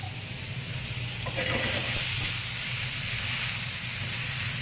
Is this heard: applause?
no